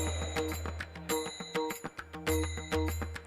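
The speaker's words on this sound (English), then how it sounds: "join hands for ringing the bell of world peace" A bright ceremonial world peace bell rings repeatedly in quick, uneven strikes at an interfaith summit, each ring shimmering with metallic overtones over a low steady hum.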